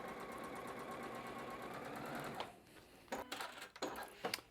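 A sewing machine stitching a 1/4 inch seam allowance in log cabin quilt fabric, a steady rapid mechanical whir for over two seconds, then stopping and giving a few short bursts.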